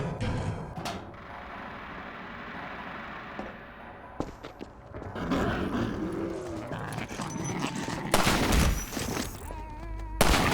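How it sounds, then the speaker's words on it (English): Rifle fire aimed at a ladder latch in the video game Half-Life 2: Episode One, with several sharp cracks and metallic clanks standing out over dense, rumbling game ambience and clatter, loud and close. "Let me shoot out the latch. I might be a little rusty with this rifle."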